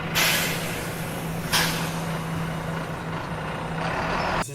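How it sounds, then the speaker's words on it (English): A bus idles with a steady low hum, broken by two sharp hissing air-brake bursts early on and a softer hiss near the end. "This is bus."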